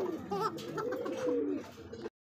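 A pair of Afsan grizzle racer pigeons coo close by, their soft rolling warbles running steadily for about two seconds with no talking.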